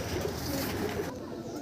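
Andhra pigeons coo softly in a loft, a steady low murmur of several birds running throughout the short stretch, with no clear talk over it.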